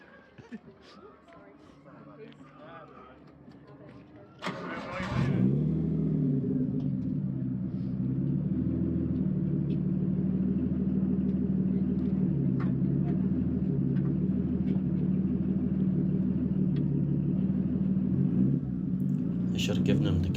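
Steady loud interior drone and low rumble of a Nissan R35 GT-R driving on the road, engine and road noise rising abruptly after a quieter opening and holding constant throughout, with faint voices near the start.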